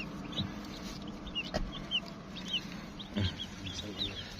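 Young white broiler chickens cluck and peep softly inside a poultry house, scattered short calls over a low background hum, fairly faint.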